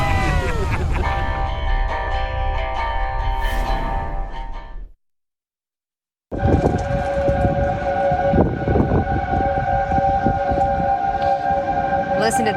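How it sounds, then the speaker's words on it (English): Tornado sirens wail on an Iowa evening during a historic Midwest tornado outbreak, steady drawn-out tones sounding loud in two stretches broken by a brief silence, with voices over them. "Tornado sirens sound with the Christmas lights up"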